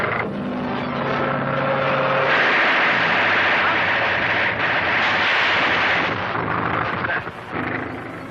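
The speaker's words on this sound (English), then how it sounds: "Machine gun." A 1941 serial air battle: heavy, continuous rumbling bursts of machine gun fire from an aircraft, with engine drone underneath, loud and close throughout, and a dip near the end.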